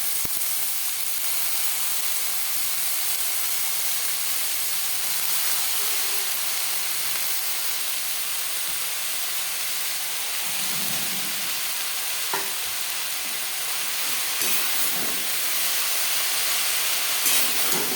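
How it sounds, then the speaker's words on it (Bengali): Red amaranth leaves frying in a pan with onion and chilli, a steady close sizzle and hiss running throughout with occasional stirring scrapes and no talk. "ভাজা পেঁয়াজের সাথে লাল শাক বেশ ভালো করে মিক্স করে দেবো কমে আসা পর্যন্ত"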